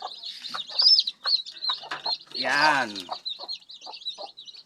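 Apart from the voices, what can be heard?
native chickens clucking in a pen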